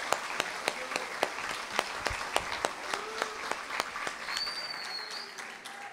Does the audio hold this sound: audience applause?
yes